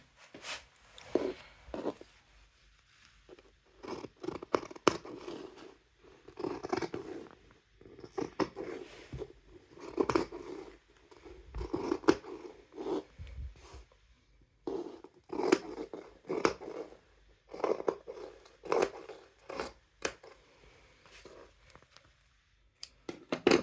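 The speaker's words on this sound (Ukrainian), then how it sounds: "І це все вирізаємо." Scissors snip through fabric being cut out for a ruffled curtain with a chaotic floral print, giving a run of close, crisp crunching cuts in irregular bursts with short pauses between strokes.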